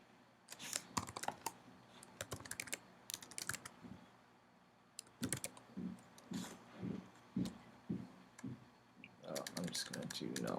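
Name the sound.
typing on a computer keyboard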